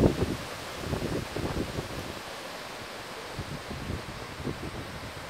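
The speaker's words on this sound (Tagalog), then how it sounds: "Hindi man siya malakas ng ulan pero lakas ng hangin guys." Gusty typhoon wind in South Korea buffets the microphone in bursts, with a steady rushing roar and rustling underneath; no talking.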